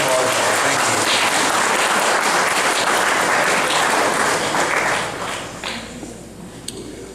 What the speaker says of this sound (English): So everybody applause.